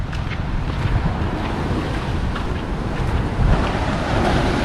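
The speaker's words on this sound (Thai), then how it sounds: "อู้คลื่นแรงมาก" Strong sea waves crash and roar steadily on Bang Saen beach at night during a storm, mixed with heavy wind buffeting the microphone, a continuous loud wash with no speech.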